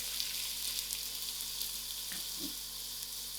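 Mixed vegetables sizzle in spices in a pot for a samp and beans dish, a steady, even frying hiss with a couple of brief stirring knocks.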